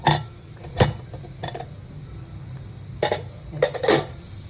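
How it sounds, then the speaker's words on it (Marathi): Lid of a pressure cooker being opened after cooking soybean pulao, giving a few sharp metallic clinks and clatters spaced apart, close and fairly loud against a quiet kitchen background. "कुकर तर आपण उघडून बघूया"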